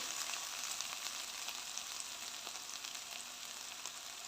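Peppers frying in hot oil give a steady, even sizzle with fine crackling throughout, moderately quiet and heard alone without any voices.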